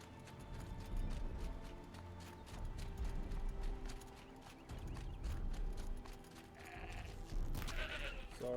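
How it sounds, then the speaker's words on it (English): A goat bleats in Horizon Zero Dawn, its cry distant from across a hill and mixed into dense outdoor game ambience with footsteps and rumbling, fairly quiet overall. "Oh, that goat's on the other side of the hill."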